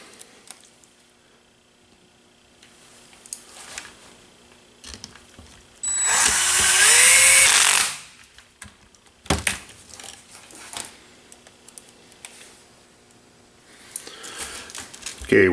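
A power tool drives bolts into a model airframe during a motor install, with one loud, sustained whirring burst of about two seconds between shorter clicks and handling noises, and faint talk in the background.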